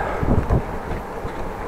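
Cold wind buffets a microphone while cycling through the city of Groningen, a loud, steady low rumble with a few gusty swells and no talk.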